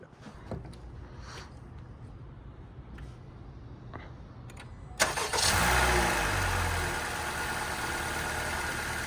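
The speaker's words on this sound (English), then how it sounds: "we're going to start the engine" An 11th-generation Honda Civic engine cranks and catches around the midpoint during an oil change, then settles into a steady, loud idle after a stretch of quiet background noise and faint clicks.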